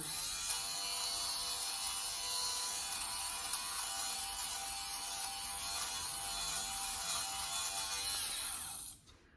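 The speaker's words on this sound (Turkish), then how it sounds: "Xiaomi'nin böyle tüy toplama makinesi." Xiaomi electric lint remover running steadily with a high, even motor whine and buzz, then cutting off abruptly near the end.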